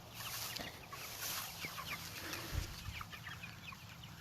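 Sixty or so chickens crowded in a chicken tractor on an organic farm cluck softly, a faint, busy murmur of bird calls over steady outdoor background noise.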